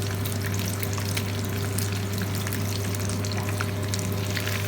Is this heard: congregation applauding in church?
no